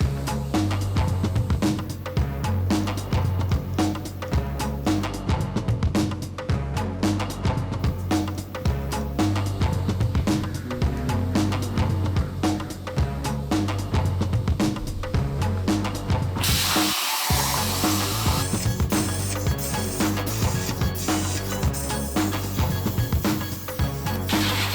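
Welding on a truck frame during C-notching gives a continuous crackling, sizzling hiss with rapid sputtering pulses, loud and close, before a brief cut to a smoother steady hiss.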